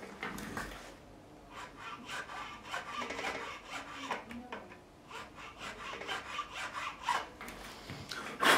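Steady rubbing and rasping strokes on a Fender Special HSS Stratocaster part under a string tree during a setup. A file works across it in repeated back-and-forth passes up close, with no voices.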